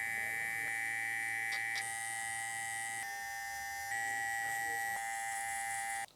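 Electric hair trimmer buzzing steadily while cutting hair for a fade, a close, bright, continuous whine whose pitch shifts slightly as it moves, stopping abruptly at the end.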